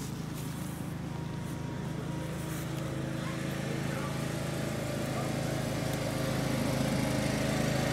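A lawn mower drones steadily at a distance, a continuous low engine rumble that holds through the whole stretch.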